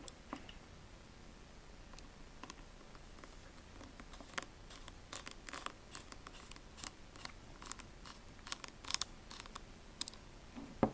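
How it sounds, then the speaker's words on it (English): Small screw being driven into an iPhone 5c during a battery replacement, faint irregular ticks and scratchy clicks from a screwdriver, close up with no talking. "Got the first screw into the hole. Okay, there, it's in now. Alright, let's screw it in."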